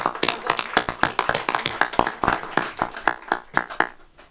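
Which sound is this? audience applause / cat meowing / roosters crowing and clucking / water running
audience applause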